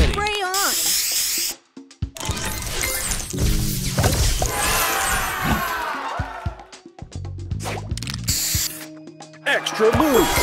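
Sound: spray booster effect in Match Masters video game

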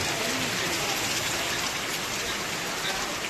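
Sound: rain pouring

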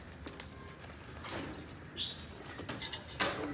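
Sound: birds calling

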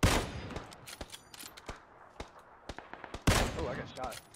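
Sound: gunfire hitting the player in the video game PUBG

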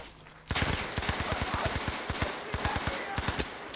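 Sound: gunfire, shooting enemies in the video game Battlefield 5

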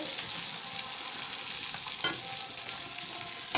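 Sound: brinjal and yardlong beans frying in a pan

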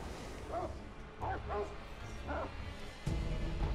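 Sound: dog barking in the video game Sekiro

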